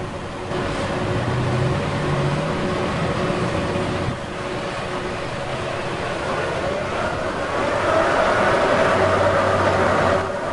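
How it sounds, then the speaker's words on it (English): A vibratory hammer drives a steel pile for an office tower foundation, producing a steady, loud mechanical drone with a humming buzz that holds continuously throughout, rising slightly in intensity toward the end. "because he's using a vibratory hammer. So this is not an impact hammer."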